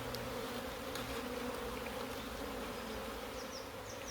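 Honeybees droning steadily in a small nucleus hive opened for frame-by-frame inspection, a close, even buzz with a few individual bees whining past; no talk.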